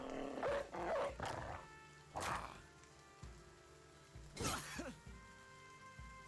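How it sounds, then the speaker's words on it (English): A war dog fighting in the turn-based game Battle Brothers: several short bursts of barking and snarling, with a few sharp impact-like hits, spread over a quiet musical bed without any talk. "then I can let my dog out to try and help fight him."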